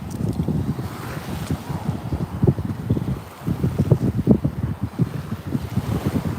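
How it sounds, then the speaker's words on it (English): Gusty wind buffets an outdoor microphone in a suburb of the Moreton Bay Shire near Brisbane, a steady low roar with rhythmic surging gusts, close and fairly loud, with a brief lull near the middle and no talking. "it's a bit windy today"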